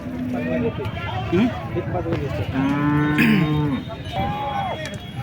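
Several cows low repeatedly, some close and some farther off, over constant crowd chatter at the noisy Sangola cattle market.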